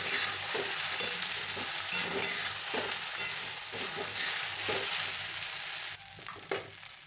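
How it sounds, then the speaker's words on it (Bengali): Bean upma is stirred in a frying pan just after soy sauce goes in, a loud continuous sizzle broken by repeated scraping stirs of the spatula, briefly quieter near the end. "সয়া সস দিয়ে এবার ভালো করে নাড়তে হবে"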